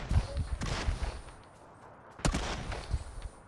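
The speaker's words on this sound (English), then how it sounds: "I think he's just shooting out windows." Gunfire in the PUBG video game as a player shoots out windows: a few sharp bursts of shots with quieter gaps between, fairly close and punchy.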